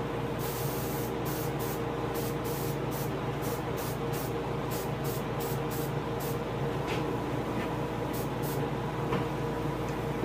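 An airbrush spraying paint onto a largemouth bass for taxidermy, a continuous close hiss with rhythmic pulses in the upper range as the trigger modulates the flow.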